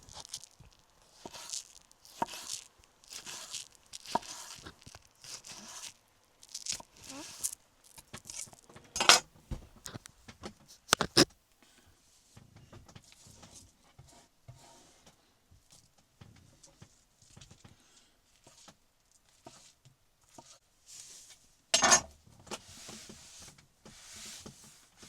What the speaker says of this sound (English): I think you can hear it as well when I slice, the spongy texture.